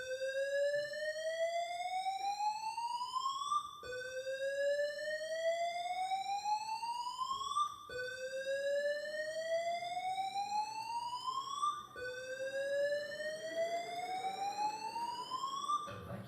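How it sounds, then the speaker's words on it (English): A school evacuation alarm sounds as a loud, steady electronic tone that sweeps upward again and again, four identical rising cycles of about four seconds each, with no talking. "If an evacuation is necessary, an alarm signal will be sounded"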